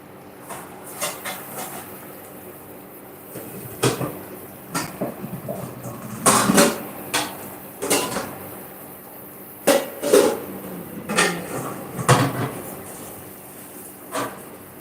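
A lid being placed on a pot of boiling fish and bean stew: scattered sharp metallic clanks and scrapes of varying loudness, with quiet gaps and a faint background hum.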